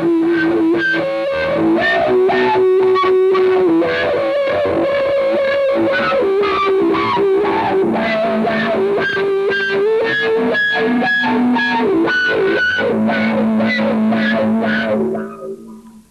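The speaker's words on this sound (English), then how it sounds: "I'm going to get some feedback things going" An electric guitar played through an amp with heavy distortion sustains loud, dry feedback tones that shift pitch from note to note without reverb, then cut off at the end.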